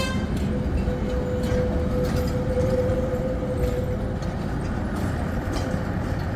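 A train rolling along a main street in a New Zealand town, a continuous close rumble with a steady tonal hum running through it, heard without speech.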